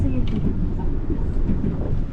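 Yurikamome line train riding through Tokyo toward Daiba, a continuous rumbling rail noise heard from inside the car, with faint voices in the background.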